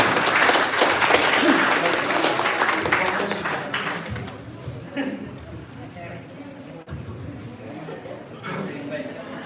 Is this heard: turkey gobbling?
no